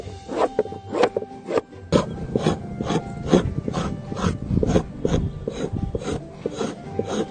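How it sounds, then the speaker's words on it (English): Repeated rasping scrapes of a blade working across an animal hide to strip off remaining hair and dirt, a steady rhythm of close, rough strokes with no talk. "giving the hide a more thorough scraping to get rid of the hair and dirt remaining on the hide"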